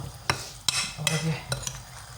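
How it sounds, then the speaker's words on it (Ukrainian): Chopped onion fries in a pan on a home stove with a soft sizzle, punctuated by several sharp clinks and scrapes of a utensil stirring against the pan. "Зараз цибулька підсмажиться."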